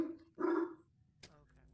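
Dog barking inside the VR Chat video game during a murder mystery round, a single loud bark followed by a short sharp yip, with faint background chatter.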